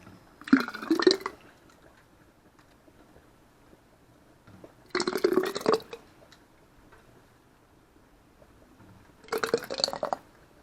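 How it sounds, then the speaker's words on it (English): Homemade tomato sauce is ladled into glass canning jars in three separate bursts of wet pouring, each with light glassy clinks against the jar, and quiet pauses between them. "Now I'm just gonna ladle this into my jars."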